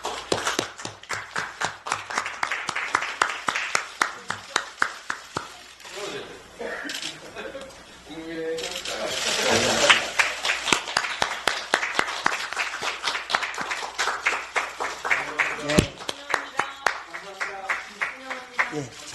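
Audience applause welcomes a new Democratic Party recruit at a Korean political event, with bursts of clapping running through the stretch, mixed with speech and background chatter.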